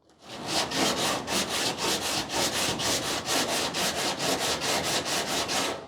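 Steady rhythmic scraping of a sanding block rubbed back and forth over body filler on a car trunk lid, close and continuous, with even strokes roughly four per second.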